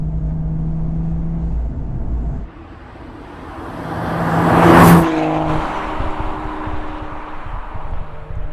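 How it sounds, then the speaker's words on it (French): A modified BMW M235i turbo engine hums, then builds to a loud, rising rev that peaks in a sharp hissing burst before settling back to a steady drone. "même pour un moteur turbo, je trouve qu'on l'entend bien"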